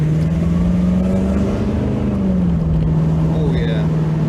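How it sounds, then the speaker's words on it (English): A Lincoln Mark VIII car engine burbles under acceleration from inside the cabin, a steady, loud low drone whose pitch rises slightly and then settles. "Yeah, it does burble nicely on the window."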